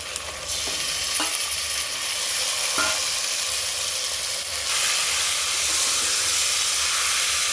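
Half a kilo of mutton is added to a hot pan with mint and sizzles loudly in a dense, continuous frying hiss, broken by a few light scrapes of stirring, with the sizzle swelling a little louder later.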